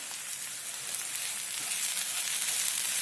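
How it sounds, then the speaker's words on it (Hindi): Spices fry in oil over a low flame, a bright, dense, hissing sizzle that holds steady and grows slightly louder, close and alone with no voices. "5 मिनट तक धीमी आंच पे मसालों को भून लेंगे। तेल छूटने तक मसालों को भून लिया।"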